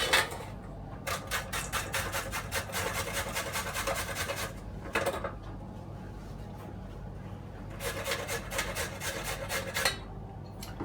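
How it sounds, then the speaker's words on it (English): Carrots grated on a cheese grater for coleslaw, producing rapid rhythmic rasping strokes in two longer runs with a quieter stretch between, close by over a low background hum. "Carrots on a cheese grater."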